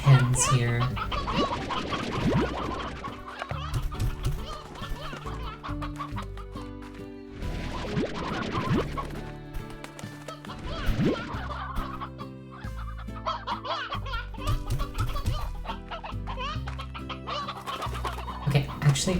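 Hens clucking in the video game Slime Rancher, with repeated busy clucks and squawks over game music, and a voice talking now and then.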